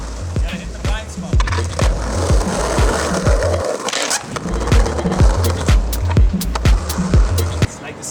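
Skateboard wheels rolling over rough city street pavement, with a continuous gritty roar and a steady run of sharp clacks from cracks and joints, close and loud.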